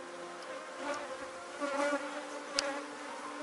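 A honeybee swarm hangs in the shade of a tree, making a continuous, even buzz of many bees close by, with no voices over it.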